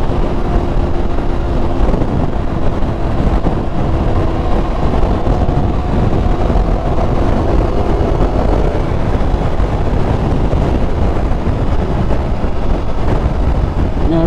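A 2023 Yamaha R1 sportbike engine pulling a wheelie: a steady, loud, droning engine roar with constant wind rush, unbroken from start to finish with no talk.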